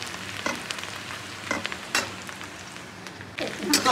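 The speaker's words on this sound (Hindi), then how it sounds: "यहाँ प्याज देखिए एकदम बिल्कुल अच्छा तरीके से भुना गया" Onions fry in a pan with a soft, steady sizzle, joined by a few stirring scrapes and clinks close by.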